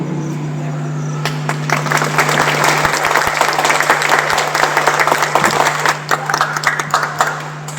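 A government higher secondary school assembly in Abgaonkala, Harda, Madhya Pradesh, clapping at an Independence Day flag hoisting, with dense sustained applause from many hands over a steady low hum.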